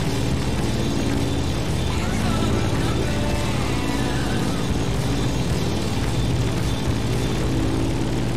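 An airplane in the racing game The Crew Motorfest flies low, its engine a loud, constant droning roar that holds steady throughout.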